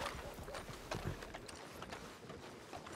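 Horse hooves gallop in a Diablo role-play video game, a dense rapid patter of footfalls running steadily under busy ambient game noise, with no voices over it.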